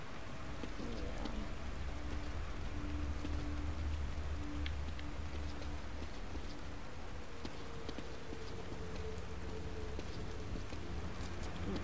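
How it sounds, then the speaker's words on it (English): Steady rain pattering across the scene in the horror video game The Evil Within, a dense continuous hiss with low rumble beneath and faint tonal hums, no voices over it. "there's rain on the camera"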